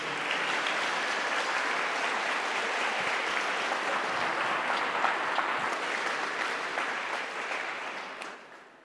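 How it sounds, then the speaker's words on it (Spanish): A church congregation applauds the women in steady, dense clapping that fills the room, sustained throughout before tapering off at the very end. "Dale un aplauso a las mujeres porque estuvo maravilloso ayer."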